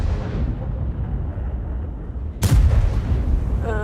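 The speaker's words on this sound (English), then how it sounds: "both of their artilleries are gunning right now" Heavy artillery fire in a tank video game: a rumbling stretch of low gunfire, then one sharp, loud boom near the end, with no one talking over it.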